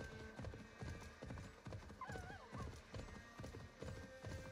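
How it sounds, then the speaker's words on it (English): A horse in the video game Assassin's Creed Valhalla gallops with a rapid, rhythmic clip-clop of hooves, and a whinny rises midway, moderately close over a faint game backdrop. "Go fast, Horsey."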